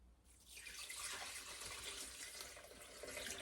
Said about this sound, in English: And 3½ cups of water.